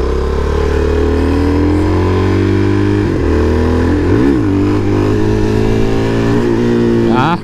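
Suzuki DRZ 400 dual-sport motorcycle engine running steadily and close throughout a ride, with several throttle blips and rev changes near the middle and a sharp rev rise at the end.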